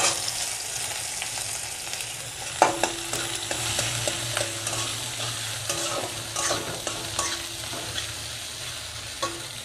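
Chopped onions and tomatoes frying with cumin seeds, bay leaf and whole garam masala for egg masala, a steady close sizzle punctuated by repeated scrapes and taps of a spatula stirring in the pan.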